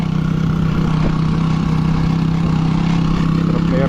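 Idling motorcycle engine heard as a steady, loud, low drone that holds unchanged throughout, with no clear talking.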